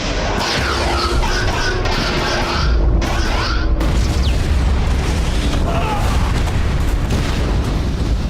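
Phaser fire and explosions from a Star Trek fan production ring out as dense, continuous booming blasts and sci-fi zaps, loud and sustained, with voices partly mixed in.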